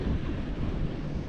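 Strong wind at a fishing spot buffets the microphone in a dense, low, rumbling roar that stays loud and continuous through the short stretch.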